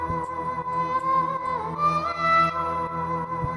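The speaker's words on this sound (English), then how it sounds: "render the pad melody. We're now going to click reverse." A pad melody reversed and pitched down an octave with sidechain compression for a hood trap beat, a dense, swelling tonal texture with slow gliding notes over a steady low pulse, played alone.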